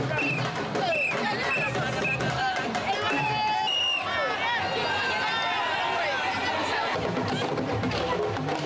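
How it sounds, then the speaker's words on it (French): A frenzied crowd cheers and whoops for Marième Sall in Dakar, a dense, loud wall of shouting, whistles and voices that holds steady throughout. "Marième Sall en communion avec une foule en délire."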